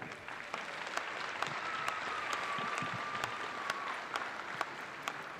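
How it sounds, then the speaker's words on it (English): Audience applause at an Indigenous community event, a steady wash of clapping with a few sharper individual claps standing out, plus a faint whistle-like tone drifting through the middle. "let's give them a big round of applause here"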